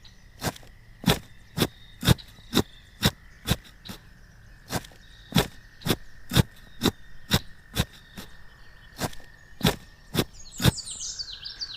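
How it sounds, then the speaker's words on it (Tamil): A spade digs into a field, giving about twenty sharp, evenly spaced strikes roughly every half second. Each is close and clear against a quiet background, with a faint chirp near the end. "அவரு மண்வெட்டிய வச்சு அவரு வேலைய தொடங்கினாரு."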